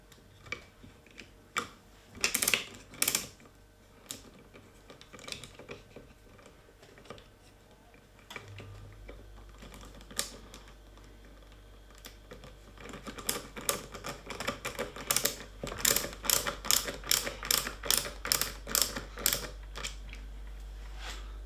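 Small screws being fitted to a Benjamin Sheridan air rifle during refurbishment, heard as clusters of close, sharp metallic ticks and clicks with a low hum running underneath in the later half.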